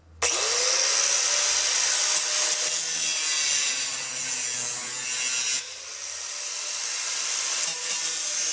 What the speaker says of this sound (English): grab the angle grinder, cut all these off